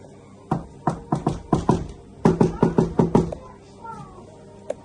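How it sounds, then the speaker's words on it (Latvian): Knocking on a door in a patterned special knock: two bursts of rapid, sharp raps, about six each, close and loud, with faint voices and a brief squeak afterward. "Vajag to speciālo klauvējienu."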